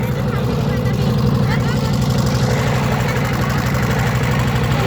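Boat engine running steadily on Mahamaya Lake in Cumilla, Bangladesh, a loud, continuous low idling drone with a rapid pulsing rhythm throughout, close by.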